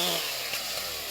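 Soldiers run chainsaws while clearing storm damage after Hurricane Dorian, giving a loud, continuous high-pitched buzzing whine that holds steady throughout, with no talking.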